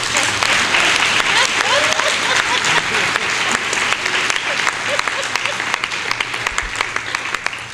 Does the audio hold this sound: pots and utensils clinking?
no